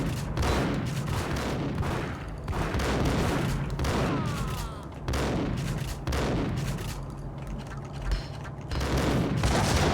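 Pump-action shotgun firing in Max Payne, repeated loud blasts in a dense rhythm with short gaps, booming and close, mixed with game chaos and a voice in places.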